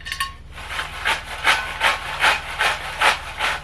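Thick cardstock paper slips shaken inside a container, giving a steady series of about eight rhythmic rustling swishes, close and moderately loud, with no talking over them.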